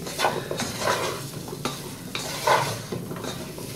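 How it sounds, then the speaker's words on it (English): Onion and aubergine sizzle in a pan for a ratatouille, a continuous frying hiss broken by several sharp stirring scrapes and clinks of a utensil against the pan. "fry the onion and then put aubergine"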